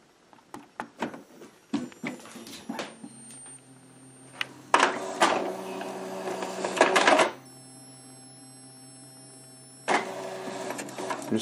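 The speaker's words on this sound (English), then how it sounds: "Your status light is blinking, telling you the printing is in progress." An Epson ET-2720 inkjet printer making a copy gives a string of clicks and short mechanical whirs, then longer motorized feeding runs separated by quiet pauses.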